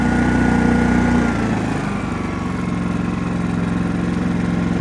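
A Genmax 7500 iAED dual fuel inverter generator running at low idle, a steady close engine drone with a continuous low hum and faint rattle, a slight drop in pitch early on, no talking.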